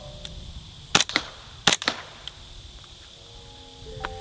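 Sharp, close gunshots from an HK SP5 fitted with a Lee Sporting LS5 trigger group, two main reports about three-quarters of a second apart, each followed by a quick smaller crack, over quiet outdoor background.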